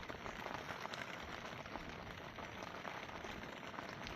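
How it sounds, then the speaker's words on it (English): Steady rain falling outdoors at around 5:30 in the morning during a carp fishing session, a dense, constant patter that holds at an even level throughout with no talking. "It's been raining for, well, since I got up."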